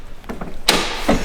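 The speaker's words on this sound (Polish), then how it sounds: "drzwi się otwiera w ten sposób" Ford Mustang car door being opened up close, with a couple of soft mechanical clicks followed by a sharp latch release and a brief thud as the door swings free.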